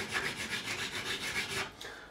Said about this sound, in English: we'll polish all of the frets